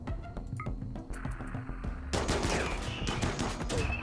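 Colonists in the colony-management game Rimworld open fire on attackers, producing a dense, continuous volley of sharp overlapping shots that thickens into heavier, louder gunfire partway through, with no voices.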